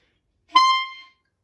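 A single sustained high D clarinet note, clear and close, held for about half a second before fading out; no talking.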